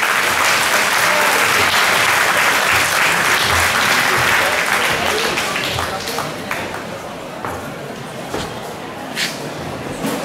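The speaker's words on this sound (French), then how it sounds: "On applaudit très très fort, s'il vous plaît." An audience at a Lao New Year (Pi Mai) association evening gives loud, sustained applause after a speech, a dense wash of clapping that slowly thins toward the end with a few scattered claps.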